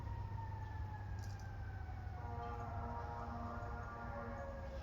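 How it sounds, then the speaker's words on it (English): Emergency sirens wail faintly outside, long gliding tones drifting in and overlapping at a distance beneath a steady low hum indoors. "You hear the sirens?"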